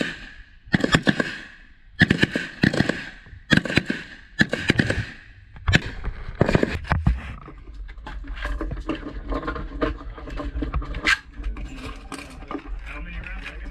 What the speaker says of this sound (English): Fire 3 well-aimed shots at your target.